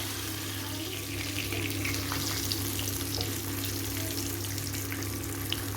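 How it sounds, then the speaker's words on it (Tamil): Emperor fish fries in a pan, a steady dense sizzle with a low hum beneath and faint scraping as the pieces are turned, continuous and close. "இப்போ இந்த பக்கமும் லைட்டாக திருப்பி விட்டுக்குவோம்."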